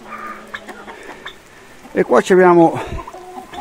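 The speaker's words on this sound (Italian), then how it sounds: "il gallo livornese, 5 l'ho messo fuori, 5 sono dentro, e c'è già il gallo valdarno da una parte." Livornese and Valdarno roosters and hens cluck in a pen, with a loud burst of squawking clucks near the end, while someone talks briefly at the start.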